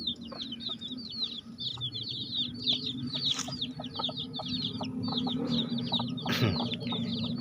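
Chickens cluck continuously in quick, chattering bursts, with several birds close by and a low background hum underneath.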